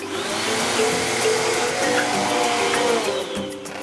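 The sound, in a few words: vacuum cleaner running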